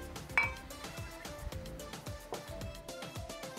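Egg yolks being added to a glass blender jar, with a sharp glassy clink followed by soft knocks and clatter of kitchenware, close and moderately loud.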